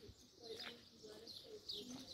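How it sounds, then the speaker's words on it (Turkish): Birds in a garden coo and chirp faintly in the distance, soft repeated calls over a quiet, hissy background. "kuş seslerini? Evet, bu sesler var."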